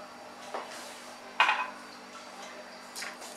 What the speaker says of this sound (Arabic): ونزيدو الجليكوز، ونضيفو الماء.